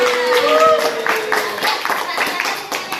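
Classroom students clap their hands for the most active group during a lesson evaluation, a brief burst of scattered claps with voices talking over it.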